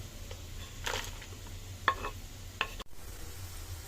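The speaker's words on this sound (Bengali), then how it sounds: "তো হালকা হালকা লেড়ে দিতে হবে আলু চিপস গুলো" Potato chips being stirred in a pan, with a few soft scraping strokes and light clinks over a faint sizzle, ending in a sharp knock.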